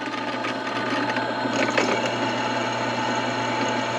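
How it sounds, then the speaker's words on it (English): A power drill whirs steadily at close range, drilling an axle nut for safety wire, a continuous mechanical buzz with a slight strain midway through. "drill just a little bit"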